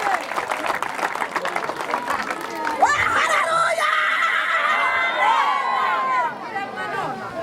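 Congregation clapping at a church gathering with a choir present, a busy rattle of applause at first, then cheering and high shouted voices over the continuing crowd noise.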